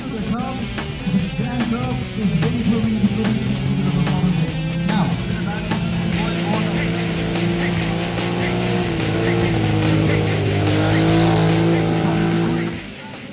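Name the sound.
cars racing on a dirt track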